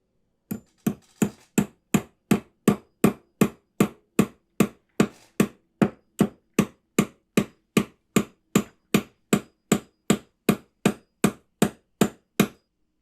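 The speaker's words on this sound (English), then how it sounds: "we expect those hammer sounds to be spatialized now" A hammer strikes about thirty times in a steady, evenly spaced rhythm, each blow a sharp, loud knock, processed as 3D audio so it seems to come from the listener's rear right.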